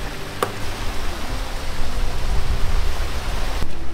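Rain hisses steadily, a broad wash of noise with a faint low rumble and an occasional sharp tap, no voices.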